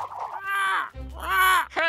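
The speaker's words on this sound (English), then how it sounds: "I think the crows are trying to get Komodo's shiny new bow tie!" Crows caw in a cartoon, with two loud, harsh, drawn-out calls and a shorter third one, close and clear.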